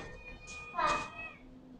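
A cat being fed gives a single drawn-out meow at close range, rising and then fading, over a faint background hum.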